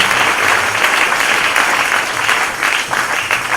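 A church congregation claps and cheers during a worship service, a steady, dense wash of applause that stays loud and even throughout.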